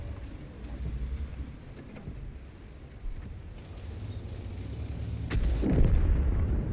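Artillery fire in a tank video game, with low rumbling booms and a heavier blast near the end over a steady windy background.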